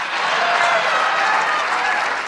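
Audience applause fills the room at the White House Correspondents' Dinner, a steady, dense wash of clapping that holds at an even level throughout with no speech over it.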